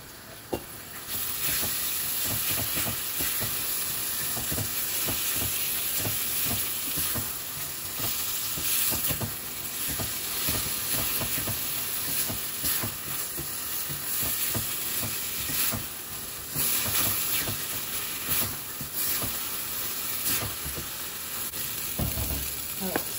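Bell peppers sizzling and frying in a pan, a steady loud crackling hiss with scraping stirs throughout, no talking.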